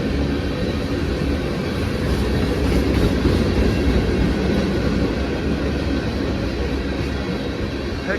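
A westbound freight train with tank cars and Missouri Pacific and SOO Line rolling stock rumbling steadily past at close range, a continuous loud roar with faint wheel clatter throughout.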